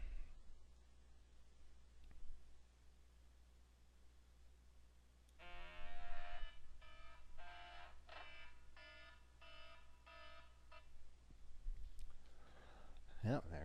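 An electronic alarm beeps in a rapid pulsing pattern of short bursts repeated several times, fairly loud against a quiet, hum-filled room, before cutting off into faint background noise and a brief clatter near the end.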